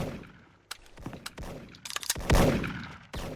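Sharp gunshots from a PSG-1 sniper rifle in the shooter game Special Force crack out in a rapid irregular string, several loud close reports with a few fainter distant ones, heard without talk.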